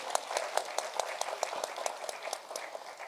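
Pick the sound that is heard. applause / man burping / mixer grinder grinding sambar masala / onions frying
applause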